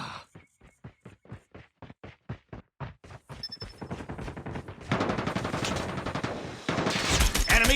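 Video game gunfire opens as a steady string of single, evenly spaced shots, then turns into dense rapid automatic bursts that grow louder and fuller toward the end, with no talking.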